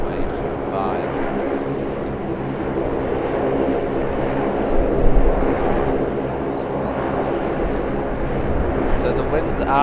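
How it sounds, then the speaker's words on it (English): A Jetstar Airbus A321-200 touches down on runway 25 at Sydney Airport, its steady broadband engine roar and rushing air filling the scene throughout, swelling midway, with gusty wind and a voice talking over it. "We've got Jetstar Airbus A321-200. Finally making it down onto runway 25."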